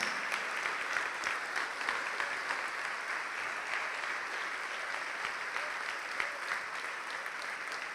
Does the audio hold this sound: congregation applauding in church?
yes